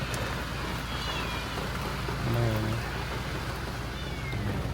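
Street cats on Fields Avenue in the morning give a brief meow midway through, set against a constant wash of rain-like outdoor noise.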